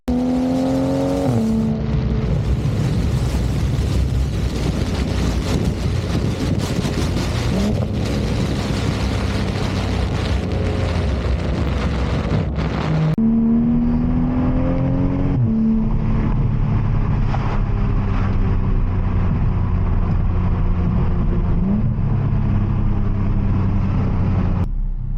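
A 500+ horsepower Toyota Supra is driven through canyon roads, its engine droning loudly from inside with rising revs and distinct shift drops, pulling hard through gears, then settling into steady cruising.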